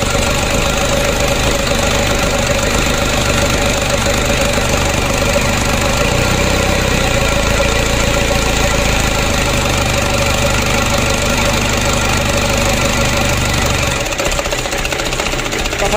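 Freshly overhauled engine running at idle after a rebuild, shaking and knocking in a loud, continuous mechanical clatter with a steady rhythmic throb, while the idle level shifts slightly near the end.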